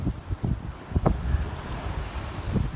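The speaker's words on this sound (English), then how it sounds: "it's gotten a lot nicer out here. The wind has gone down and the seas have gone down." Wind noise and sea waves wash steadily around a sailboat heading south on the Sea of Cortez, a continuous rushing broken by a few low thumps of hull and water, fairly loud and close with no voices.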